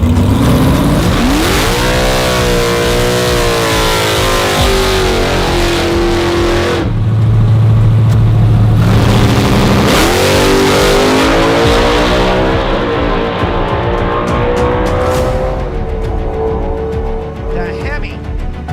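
A loud V8 Dodge Charger race car engine revs hard and screams through repeated rising sweeps, close by, with brief drops between pulls.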